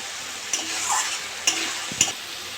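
Ginger-garlic paste frying in oil in a pan, stirred with a few distinct scraping strokes over a steady close sizzle, no voices, while cooking Bengali cabbage chorchori with potato and fish oil.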